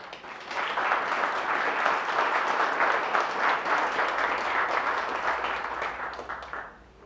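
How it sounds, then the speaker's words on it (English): A crowd applauds steadily for several seconds at a Purple Heart Day event in a veterans hall, a dense wash of clapping that fades out at the end. "A big round of applause, please"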